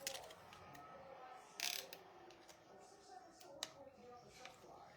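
A zip tie pulled tight through its holder on a toy glider build gives quick ratcheting clicks at close range, with a louder burst in the middle and scattered sharp ticks afterward.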